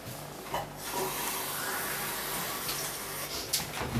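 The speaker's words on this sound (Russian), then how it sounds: "Теперь стакан воды выливаем туда." A glass of water pours into a container during a classroom lesson on stratification, a steady soft splashing and trickling heard close for a few seconds.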